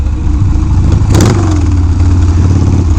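A Harley-Davidson Sportster 1200 revving on the road, a loud, close, throbbing engine with a sharp rise in revs and a brief crackle near the middle, then settling back to a steady rumble.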